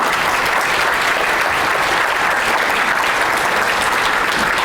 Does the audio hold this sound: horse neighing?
no